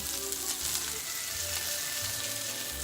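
Hamburger patties sizzle and fry in a pan after being flipped, a dense, steady crackling hiss close by with soft low bumps of movement underneath and no talking.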